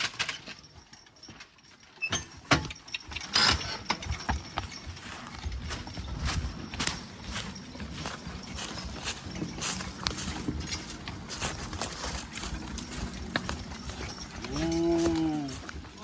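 A young working horse walks while skidding logs, its hooves clopping in an uneven series close by amid clanking harness and chain noises, and a short neigh comes near the end.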